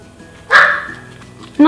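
A dog gives two short, loud barks close by, a sharp yelp followed by a second bark a moment later, with people talking nearby.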